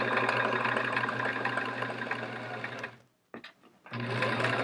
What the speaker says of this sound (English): All right, we got all our pieces sewn.